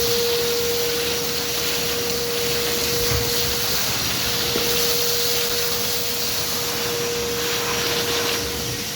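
A Dewalt DXV10SA 10-gallon stainless steel wet/dry vacuum, rated 5.0 HP, runs continuously with a steady broadband roar and a constant whine as it sucks up concrete chunks, loud and close, with no talking.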